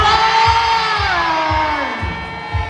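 Event crowd chanting the name Snake Brand together loudly in unison, a burst of many voices shouting and cheering with a rhythmic thumping beat underneath, fading slightly toward the end.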